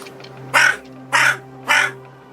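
A young crow caws three times in an even rhythm, each call harsh and loud at close range, with a faint steady hum underneath and no talking.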